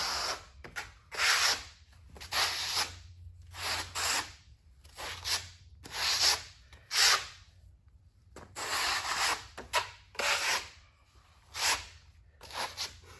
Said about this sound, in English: Burn in your substrate with the flat side of your trowel, where you're going to set your tile.